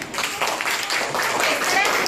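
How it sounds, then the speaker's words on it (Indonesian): Students clapping in a classroom during a fractions lesson, a brief patter of hands under a noisy room with voices mixed in. "Beri tepukan."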